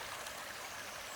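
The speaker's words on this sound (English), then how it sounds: "I've been walking the stream here." Water flows and trickles steadily in a stream beside a river after a good rain, a soft continuous wash heard alone at close range.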